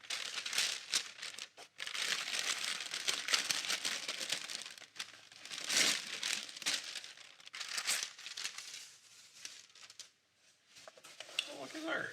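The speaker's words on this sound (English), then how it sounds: "Let's unwrap this and see what we got." Plastic wrap being peeled and unwound from a homemade book safe after it has set, giving crinkling, rustling bursts close by with brief pauses, and no talk over it.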